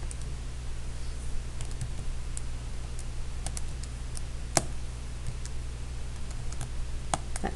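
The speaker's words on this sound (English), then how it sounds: "I'm just going to type that right into my calculator" Numbers tapped into a calculator with a sticky 8 button, a string of faint, sharp key clicks at an uneven pace over a steady low hum, with no talking.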